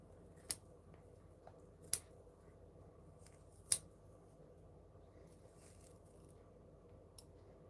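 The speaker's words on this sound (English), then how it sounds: "So I'm actually going to snip that one straight off." Scissors snip at a rotted carnivorous plant in a few quiet, crisp cuts spaced apart, with a soft faint snip near the end against a low room hum.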